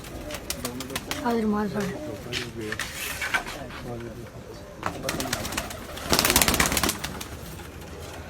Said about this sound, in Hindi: ये भी उस्ताद साहब के घर का कबूतर है